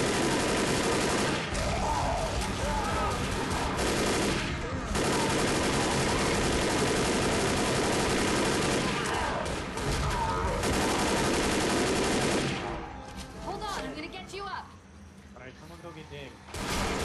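Rapid automatic gunfire from the video game Left 4 Dead rattles in long dense volleys with brief lulls, ending in scattered quieter shots, while players talk over it.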